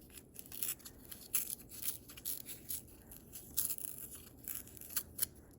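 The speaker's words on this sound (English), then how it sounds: "so I'm gonna tear a little bit more" Quiet, close tearing and scratching, in short rough bursts repeated steadily over a faint background hiss.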